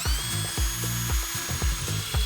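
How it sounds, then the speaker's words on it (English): A steady whirring drill with rhythmic grinding pulses as a step bit bites into a bus door, enlarging a hole up to 1 inch, close and continuous throughout. "we then used the step bit to slowly drill the hole size up to 1 inch"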